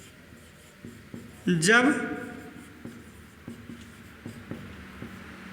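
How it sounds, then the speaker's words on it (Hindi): Chalk or pen writes on a board during a class 10 physics lesson, heard as soft, irregular taps and strokes under a teacher's steady talk. "ये तीसरा नियम मैं यहाँ लिखता हूँ"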